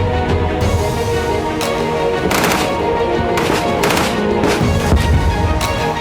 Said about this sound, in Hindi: उत्तरी गाजा में हमास की पोजीशन पर इजरायली सेना ने इस तरह से टैंक से धावा बोला।